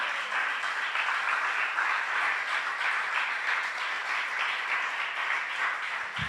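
A church congregation applauds during a Spanish-language sermon, steady dense clapping that holds at an even, loud level for several seconds without any voices over it.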